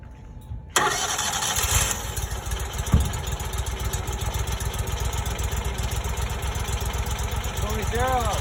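A Vermeer BC700XL wood chipper engine cranks, catches and settles into a steady mid-pitched idle, close and continuous.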